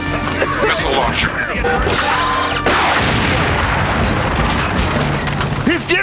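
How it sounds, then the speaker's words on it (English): Cartoon missile launcher firing in a RoboCop Alpha Commando animated episode, a loud booming blast with crashing debris over a busy, dense soundtrack, with a second sharp burst partway through. "Missile launcher."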